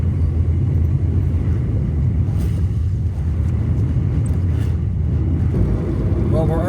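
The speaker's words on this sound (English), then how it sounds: "There's the thunder." Thunder rolls in a low, continuous rumble through rain at a beach, steady and fairly loud with wind buffeting the microphone across the whole stretch.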